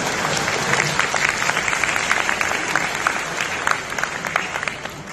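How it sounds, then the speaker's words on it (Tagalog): Dense clapping from an audience at a leadership talk, a steady continuous burst of applause that tapers slightly toward the end, with a faint murmur of crowd under it. "Maraming salamat po sa lahat ng pumalakpak."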